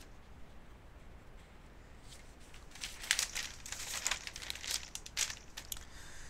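Newspaper pages of the Chosun Ilbo being turned, a close, crisp crinkling and rustling that starts faintly and builds into several sharp paper swishes, with no speech.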